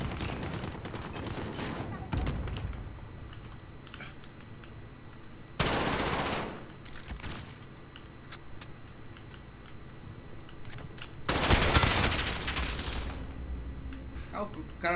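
Bursts of automatic gunfire in a Call of Duty: Modern Warfare (2019) match set in St. Petrograd, with loud, close volleys near 6 and 11 seconds and sparser, fainter shots and ticking between them.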